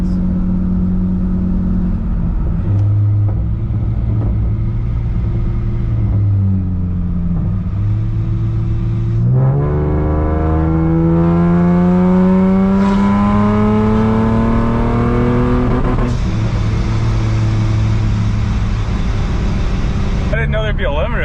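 A boosted Acura TL Type-S engine on a third-gear wide-open-throttle pull, loud droning rise in pitch that climbs steadily, then cuts abruptly at the rev limiter with a sputter; heard from inside the car.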